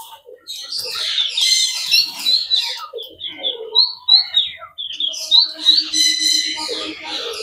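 Small Java sparrows in a mini zoo picnic garden chirp and squawk in rapid overlapping bursts, fairly close and loud, with other birds calling around them.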